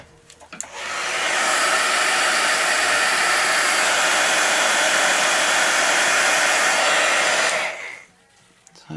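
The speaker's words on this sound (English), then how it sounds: "I definitely will dry that with a heat gun to fasten the whole process here" A heat gun blasts a steady, loud roar for several seconds while drying an organic dye sample, switching on abruptly and cutting off near the end.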